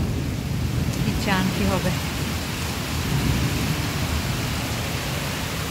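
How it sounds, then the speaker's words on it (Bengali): Heavy nighttime rain pours steadily during a thunderstorm in Sylhet, with a dense close roar of downpour and low rumbling thunder filling the whole stretch, while a voice speaks briefly over it. "একদিকে জোরে বৃষ্টি, আর একদিকে আকাশের গর্জন, বিজলি চমকানো"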